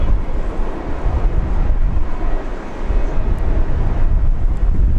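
A Qantas airliner roars down runway 19 at Brisbane International on takeoff, a loud, broad rumble mixed with heavy wind buffeting on the microphone, sustained throughout.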